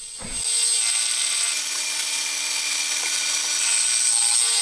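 Machine tool cutting a cast cylinder head for a 125cc four-cylinder engine, a steady high-pitched whine with a sustained tonal ring after a short thump at the start, loud and continuous.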